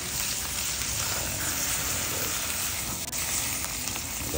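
Steak searing in a very hot cast iron skillet with added olive oil, giving a steady, dense sizzle and crackle that runs unbroken throughout, close and fairly loud, with no voices.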